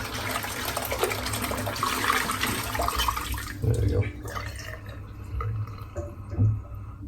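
Water runs and splashes while shaving soap residue is rinsed out of a tub, with a short spoken remark over the washing noise.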